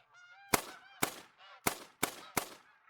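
Geese in the hunting game theHunter: Call of the Wild on Revontuli Coast give a run of honking calls, then five sharp, loud reports ring out about every half second and cut across the calls.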